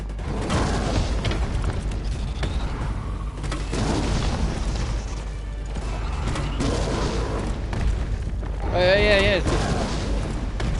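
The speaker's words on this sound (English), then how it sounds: "I'm gonna change ammo to the explosive rounds." Explosive rounds fired at Nemesis in Resident Evil 3 (2020) boom over constant battle noise, with heavy impacts and a rising wail near the end while someone talks throughout.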